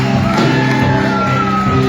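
A church congregation shouting and cheering together, loud and sustained, a dense wash of many voices raised at once.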